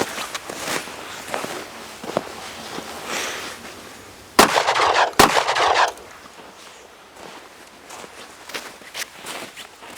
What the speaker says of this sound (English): I'm going to fire 2 shots.